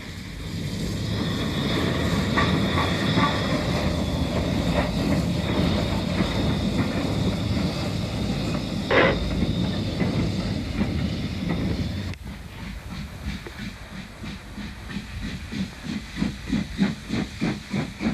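A steam locomotive eases slowly toward a bridge under a speed restriction, giving a steady loud hiss of steam that gives way to slow, rhythmic chuffs near the end, with no voices.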